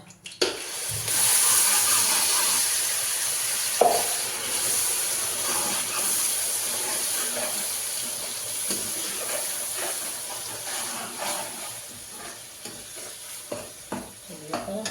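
Mustard seeds and spices roast in hot oil for a Punjabi mutter paneer curry, a loud, constant close sizzle and hiss with scattered crackles and occasional stirring knocks toward the end.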